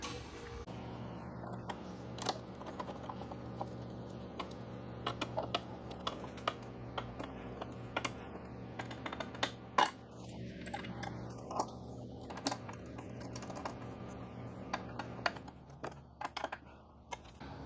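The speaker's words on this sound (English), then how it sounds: "Then you can go back and tighten up these 2 bolts right here" Sharp metallic clicks and ticks of a hex tool tightening two bolts on a billet luggage rack and backrest being installed on a Can-Am Ryker, scattered irregularly over a steady low hum, close and fairly quiet, no voices.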